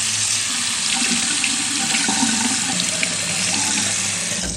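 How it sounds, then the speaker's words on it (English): Tap water running steadily into a sink, rinsing silverware after electrolytic tarnish cleaning with a carbon electrode, a loud, close, continuous splashing rush with no voices. "Let's go rinse it off a little bit."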